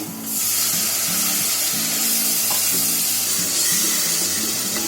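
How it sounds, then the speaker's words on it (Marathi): Water poured into a hot pan for gravy made with fried arbi (taro) fritters, a steady loud hiss and sizzle running continuously without a break and with no talking. "आता मी ह्याच्यामध्ये आहे ना थोडं पाणी टाकते."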